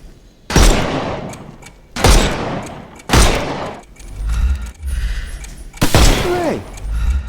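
Gunfire in the Sherlock Holmes Chapter One video game shooting off enemies' armour, with several loud sharp shots spaced across the stretch and rumbling game effects and tonal sounds between them.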